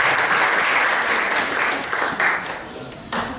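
Wedding guests clap together in a short, lively burst of applause, with dense, even hand-claps throughout and a few louder swells near the end.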